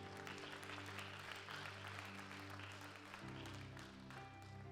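A church congregation applauds together in a dense, steady roar of clapping, with a sustained organ or keyboard chord ringing underneath and shifting pitch partway through.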